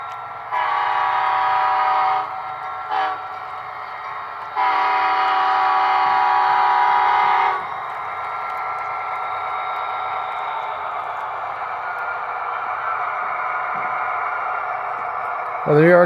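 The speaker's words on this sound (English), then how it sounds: "Hope you guys enjoyed this video of the Union Pacific 1111 Employees Unit, EMD SD70ACE" HO scale Union Pacific 1111 employees-unit EMD SD70ACE model locomotive sounds its horn in loud sustained blasts, a long one, a short toot, then another long blast, followed by a steadier running drone near the microphone.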